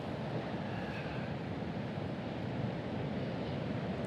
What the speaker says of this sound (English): The ocean is not far away.